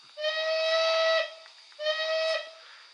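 A Bachmann GCR 11F model steam locomotive sounds its whistle in two clear blasts, a longer one followed by a shorter one, each a bright tone with a brief tail of hiss.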